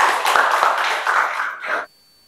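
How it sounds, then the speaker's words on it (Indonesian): A classroom of students claps together in a burst of dense, fairly loud applause lasting under two seconds, then stops abruptly into near silence. "Oke, tepuk tangan buat kalian semua ya."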